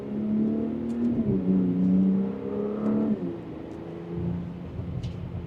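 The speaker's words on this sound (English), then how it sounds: "There's a couple pops and crackles there" A 2026 Audi SQ5 Premium Plus in sport mode accelerates briefly, its exhaust rising in a steady mid-pitched drone with a few faint pops and crackles as it eases off, heard close and without talk.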